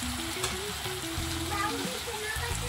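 Spices with turmeric powder, ginger and green chili paste sautéed in a pan for a Bengali banana-flower dish, giving a steady, close sizzle with no break under faint background noise.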